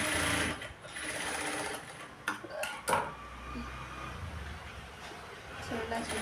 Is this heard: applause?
no